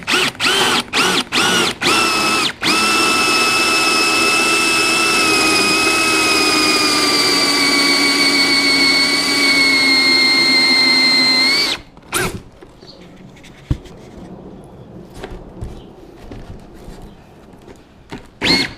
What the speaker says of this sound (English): so I'm going to drill that now.